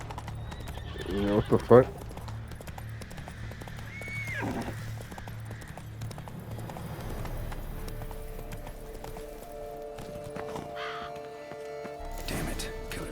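Horse hooves clip-clopping at a gallop in The Witcher 3, with a whinny early on, crows cawing, and a voice speaking briefly over the game sounds.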